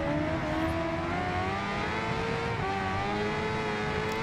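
A Kawasaki H2R motorcycle engine in the racing game Ride 2 screams at high revs, a steady loud whine with slight pitch shifts as it pulls hard, engine alone throughout.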